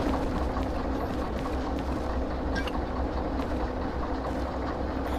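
A train rumbles steadily while pulling away in the Derail Valley railway game, a continuous low rolling roar with faint clacks, constant and fairly loud with no talk.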